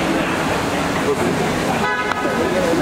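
A car horn gives a brief toot over steady traffic rumble on a busy roadway as a vehicle arrives, with people talking throughout.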